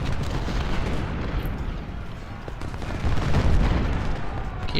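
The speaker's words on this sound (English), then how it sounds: "Oh, there's their cannon." Cannon artillery fires in a Civil War battle video game, dense booming blasts and rumbling gunfire rolling continuously over a noisy battlefield bed, with a heavier burst near the end.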